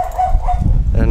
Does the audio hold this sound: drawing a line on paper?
no